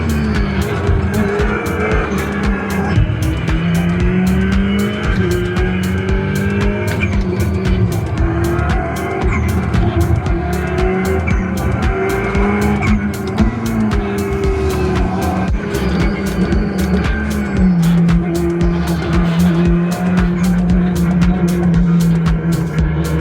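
A race car from a sim racing video game howls steadily at high revs with tire squeal, a continuous loud engine drone that shifts pitch through gear changes for the whole stretch, with no talk.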